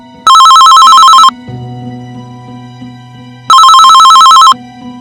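A telephone rings loudly in two long electronic bursts, separated by a pause filled with a low hum.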